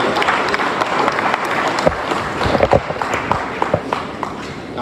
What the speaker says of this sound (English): make some noise for Dr. Tibote